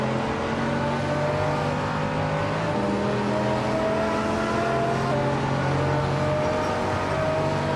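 Race cars, led by a 2006 Mosler MT 900S, roar off the start at Talladega in a racing video game, a steady, loud droning engine note that shifts pitch midway as the pack accelerates, with no voices.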